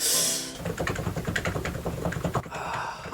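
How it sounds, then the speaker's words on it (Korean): Rapid keystrokes on an electrostatic capacitive keyboard make soft, scratchy, muted clacks in a steady close-up flurry, starting after a brief noisy moment and with no voices. "무접점 키보드의 이 서걱서걱한 소리는 정말"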